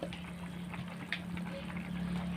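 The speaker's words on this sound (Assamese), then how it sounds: "এতিয়া আঞ্জাখিনি উতলিবলৈ ধৰিছে।" Fish curry simmers in a home kitchen pot, a soft, steady bubbling with small liquid pops, quiet and continuous, with faint background sounds and no clear talk.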